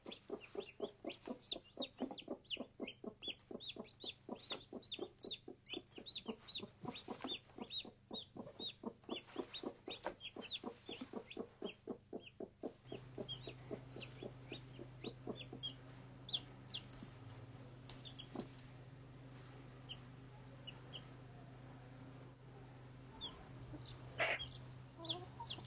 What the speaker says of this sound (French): la poule emmène ses poussins dans la cour de la ferme